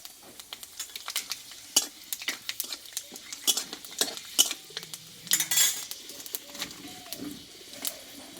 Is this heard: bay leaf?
yes